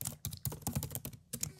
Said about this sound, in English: she creates a heat exchanger study by clicking New Study and then typing in heat exchanger